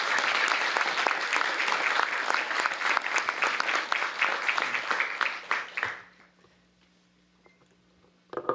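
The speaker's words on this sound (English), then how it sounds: "Give him a big round of applause." A press-event audience in Washington, DC gives the council chairman dense, sustained applause that tapers off and dies out near the end, leaving quiet room tone.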